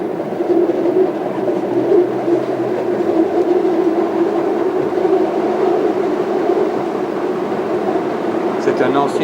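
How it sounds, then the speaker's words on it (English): A Brussels line 90 tram runs through a former car tunnel converted for trams, giving a steady loud rumble and hum of wheels and motors throughout. "our next tram I think is coming around the corner up there"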